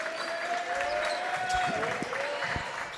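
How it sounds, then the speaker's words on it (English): Crowd noise swells through a high school varsity basketball gym, Platteville against Potosi, with a steady roar of cheering and scattered shouts, a whistle-like tone and a commentator's voice riding on top. "Crowd getting into it"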